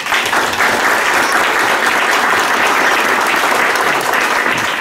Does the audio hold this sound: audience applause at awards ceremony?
yes